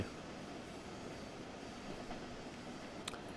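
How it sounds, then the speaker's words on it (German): A quiet, steady rumble of an Intercity 2 double-deck train rolling into a station platform in the Train Sim World 3 game, with a brief faint squeal near the end. "Und wir rollen ein auf Gleis 3."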